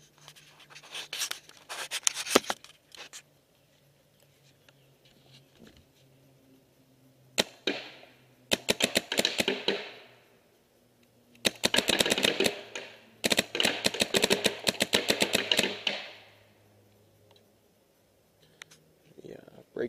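Low-profile-feedneck paintball marker firing at an outdoor target, heard as several quick bursts of sharp, snappy pops separated by pauses, fairly close and moderately loud, with a faint low hum underneath.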